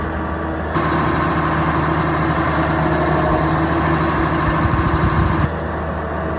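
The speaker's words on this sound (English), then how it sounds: "There's a nice noise from that tractor." A farm tractor engine running a Zago Antares 120 diet feeder kicks in with a loud, steady roar, drones on evenly for about five seconds, then cuts off abruptly.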